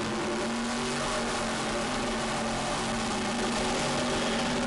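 SK modified race cars running a heat race on Waterford's 3/8 mile asphalt oval, a steady, loud engine drone with sustained tonal whine and no breaks, no talk heard.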